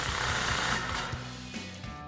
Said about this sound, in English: we can take a 15 millimeter socket to tighten down our clamp